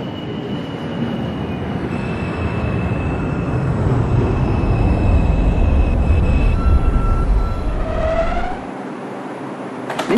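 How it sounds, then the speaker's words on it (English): An express subway train in the OpenBVE rail simulator rumbles steadily along the track, with a sustained whine and rising squealing tones before the roar drops off abruptly near the end; no one speaks. "This is a 137th Street City College bound 2 express train via the 1 line."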